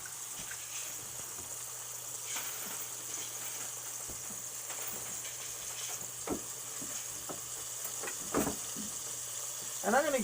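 Chicken pieces frying in oil for chicken marsala, a quiet, steady sizzle with a few sharper spits and crackles near the end as the pieces settle in the pan.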